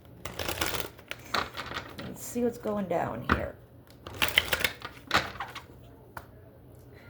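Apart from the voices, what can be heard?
shuffling tarot cards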